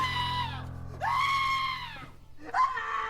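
An actor screams inside a tent during filming of a period film set in an English field: three long, strained, wavering screams, loud and close, with short gasping breaks between them.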